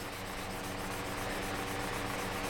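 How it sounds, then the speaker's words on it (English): Sandpaper rubs steadily back and forth while polishing, a continuous close, dry scratching hiss with no pauses. "Always moving your sandpaper up a little bit each time."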